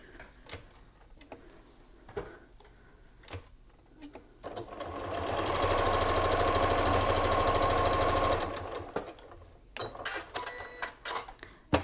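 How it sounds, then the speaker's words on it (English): A sewing machine runs a steady, even burst of rapid stitching for a few seconds while a quarter-inch seam is sewn on a log cabin quilt from jelly roll strips, framed by quieter handling clicks before and after. "Sew a quarter inch."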